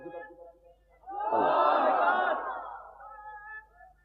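A large crowd at an Islamic religious gathering roars a takbir chant in unison, a single loud swelling shout rising after a short lead-in voice and fading over about two seconds.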